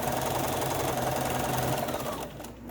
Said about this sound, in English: So we're going to stitch this.